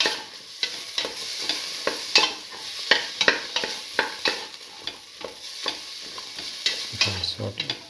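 Bottle gourd with salt and red chilli sautéing in a pan for a red lentil stew, stirred with a spoon in repeated close scrapes over a continuous sizzle, with no talking.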